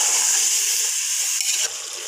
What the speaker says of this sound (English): Fry the paprika well.